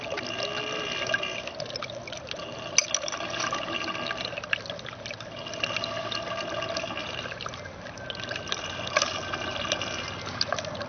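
Water running steadily through a fine gold recovery bowl holding sandy material, a continuous close trickling and splashing flow with small bubbling surges.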